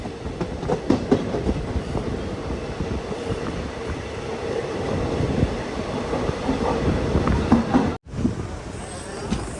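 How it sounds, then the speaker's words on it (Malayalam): A sleeper-class special train pulls into Kasaragod railway station with a steady rolling rumble and rhythmic clickety-clack of wheels, loud and close throughout, with a brief dropout near the end. "ട്രെയിൻ ഇതാ കാസർഗോഡ് റെയിൽവേ സ്റ്റേഷനിലേക്ക് എത്തിക്കൊണ്ടിരിക്കുകയാണ്"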